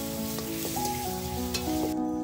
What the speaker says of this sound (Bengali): প্রথমে পেঁয়াজগুলো দিয়ে একটু ভাজা ভাজা করে নিতে হবে।